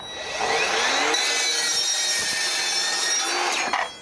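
A power saw cutting through square metal pipe, a loud continuous grinding whine held steadily for several seconds before tapering off at the end.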